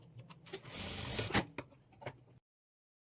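A sewing machine stitching a blouse, giving a short, close burst of rapid mechanical whirring with a couple of clicks before it stops abruptly into silence.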